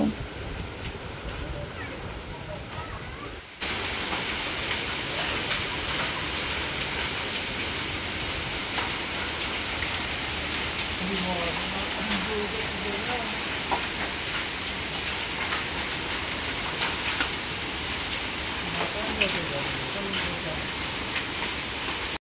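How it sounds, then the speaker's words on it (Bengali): Heavy rain mixed with hail pours down outdoors in a dense, steady hiss that suddenly grows louder a few seconds in, then continues unbroken. "বাইরে কি পরিমাণে বৃষ্টি হচ্ছে"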